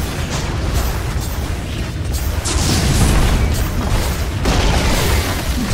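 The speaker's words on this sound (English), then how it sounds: "Radiant's middle tower has fallen" A Dota 2 tower is destroyed in a dense, roaring crumble of rumbling booms and debris, with a louder surge midway through, continuous and loud throughout.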